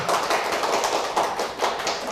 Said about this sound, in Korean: 박수 한번 쳐주시고.